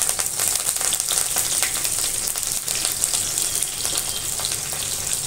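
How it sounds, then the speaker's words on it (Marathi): A handful of curry leaves hitting hot oil in a pan, giving a loud, steady, close sizzle and crackle that runs unbroken throughout, with no talking. "लगेच त्याच्यानंतर आपण एक कढीपत्ता घालून घेऊ मुठभर।"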